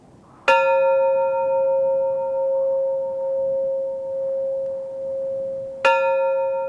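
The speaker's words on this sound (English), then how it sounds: "The tradition is that each pilgrim rings the bell upon arriving at the summit, once for every time they have visited this holy site." A summit bell on Sri Pada, rung by an arriving pilgrim, gives two clear metallic strikes several seconds apart, the first one's tone ringing and slowly pulsing as it fades before the second strike.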